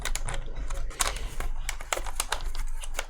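A Cherry ML keyswitch is fitted into a Kinesis Advantage keyboard, with dense close-up plastic clicks, taps and rattling of small parts in quick irregular succession.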